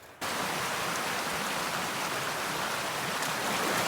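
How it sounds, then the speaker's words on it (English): Water pouring down a slippery waterfall on a mountain hiking trail, a loud, steady broadband rush that fills the whole moment without pause. "Level 4, the slippery waterfall."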